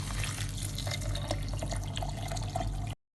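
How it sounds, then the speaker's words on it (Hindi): Chilled water poured into a jug for phalsa sharbat, a continuous splashing pour with a steady low hum underneath that stops abruptly after about three seconds. "अब इसमें डाल देंगे हम चिल्ड वाटर,"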